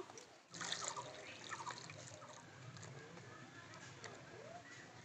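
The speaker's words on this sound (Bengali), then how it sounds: "এই যে ছিবড়াটা, এটা আবার আমি জল দিয়ে ধুয়ে নেব" Raw potato pulp is washed by hand, with faint trickling and sloshing water close by and soft handling noises, at a low level.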